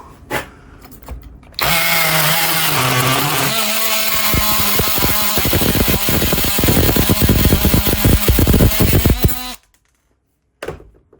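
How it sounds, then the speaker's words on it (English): A multi-tool cuts out a broken car part, starting abruptly after a brief quiet moment and then whining loudly and steadily for about eight seconds with a buzzing, rattling cut before stopping. "So we need to cut that out and make a new one. Multi-tool, and away we go."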